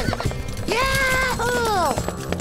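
A cartoon horse from Titeuf gives a loud, wavering whinny in two rising-and-falling bursts over steady clip-clopping hooves and a busy animated soundtrack.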